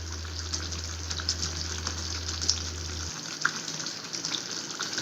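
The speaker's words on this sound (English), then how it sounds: "Give it a nice stir." Aubergine curry frying in a pan with a pinch of homemade garam masala, a steady close sizzle and crackle with a few soft stirring scrapes and a low hum that stops partway, no talk.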